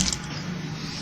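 A sewing machine runs close up stitching a kali-style kurta, a brief steady mechanical whir with a faint hum underneath and no voices.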